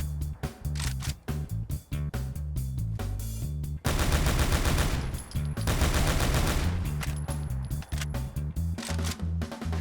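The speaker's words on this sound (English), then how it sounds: "The MK14 can be modded to fire in automatic mode, but it has quite the recoil and muzzle climb" An MK14 rifle firing in automatic mode in Fallout 4 lets out rapid, loud bursts of gunfire, with rattling volleys broken by short gaps and denser sustained firing in the middle.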